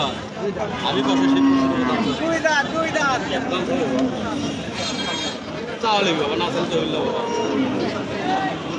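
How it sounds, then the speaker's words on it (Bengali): Cattle lowing at a large, crowded cattle market in Hanskhali ahead of the Eid al-Adha sacrifice, with moos rising over constant crowd hubbub and nearby voices talking throughout. "হাটে প্রচুর গরু উঠছে"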